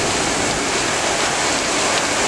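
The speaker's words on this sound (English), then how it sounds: "Straight line wind here anyway." Severe straight-line winds of a squall line in southwest Wisconsin, a loud, unbroken roaring rush of wind and blowing debris filling the whole moment.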